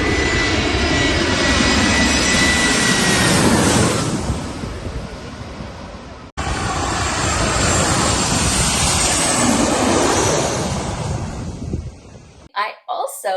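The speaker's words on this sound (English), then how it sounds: "Here is a couple of videos of the planes actually coming" Passenger jets roar low overhead while landing at Maho Beach, two loud sustained passes each swelling and fading, separated by a brief cut, with surf and crowd noise beneath and a few faint voices at the end.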